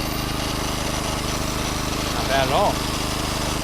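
A MaxPeedingRods 3200 W inverter generator runs in eco mode with a steady, close mechanical drone, while a voice speaks briefly over it.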